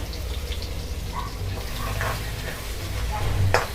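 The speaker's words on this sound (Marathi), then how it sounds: "आता आपण हे चांगलं फ्राय करून घ्यायचं।" A paste of ginger, garlic and green chilli fries in hot oil for misal, giving a loud, continuous sizzle with scraping stirs and occasional spits. It is heard close up throughout.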